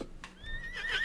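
Horse neigh sound effect fired by a hotkey during a live trading stream, a fairly loud high whinny rising and trembling over about a second, with no talk over it.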